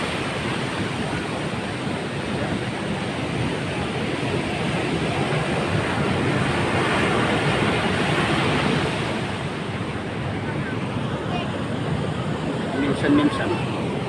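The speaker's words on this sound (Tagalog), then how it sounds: "Oh, laki ng mga alon." Large ocean waves wash onto a wide beach in Samar, a continuous broad roar of surf that swells and eases, with wind noise and a faint voice late on.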